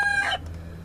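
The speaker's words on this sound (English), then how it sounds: "So there's little rooster way down there." A game fowl rooster gives a short, crowing call from some distance, lasting well under half a second before fading into a low background hum.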